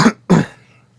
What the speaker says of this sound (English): I'm still recovering from a cold, so expect me to cough a lot